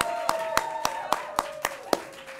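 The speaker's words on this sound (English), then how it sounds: "So how about a nice round of applause to kick some things off?" Sparse clapping and a small cheer at a Nasdaq opening-bell event for a dog rescue, with a handful of distinct claps spaced across the moment over a faint tonal ring and some talk.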